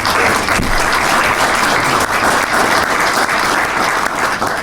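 An audience at a county board of commissioners' meeting gives a steady, dense round of applause, close and even from start to finish with no talking over it.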